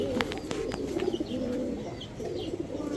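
Pakistani pigeons, including a golden pair, coo close by in a soft repeated low warble, mixed with light clicks and faint chirps from other birds around them.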